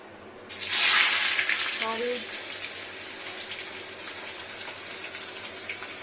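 Onions dropped into hot mustard oil for a chicken curry give a sudden loud sizzling hiss that swells quickly, then settles into a steady softer crackle, with a voice speaking briefly over it.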